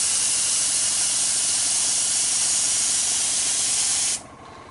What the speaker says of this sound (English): Now you're going to have to forgive me for the noise of the compressor